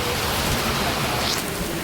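Heavy rain falls steadily while a cycle ride is halted at a roadside godown, a dense, even hiss of drops close by with no talk.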